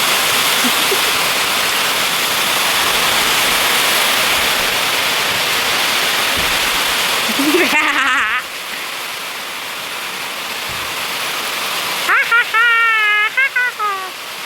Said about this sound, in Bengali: প্রচণ্ড বৃষ্টির শব্দে আমি ভিডিওটাতে প্রথমে কিছুই বলবো না